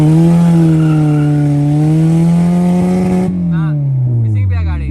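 A car being driven fast holds a loud, sustained engine drone that rises and falls slightly in pitch, then sags lower near the end as the sound thins out.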